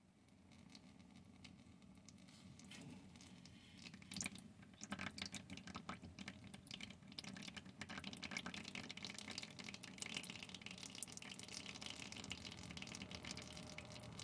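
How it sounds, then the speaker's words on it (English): Engine oil from a 2018 Nissan Versa pours out in a steady, quiet patter after the drain plug loosens, a continuous trickling splash that grows slightly denser, with no talking. "Loosen it up, let the oil drain out of it."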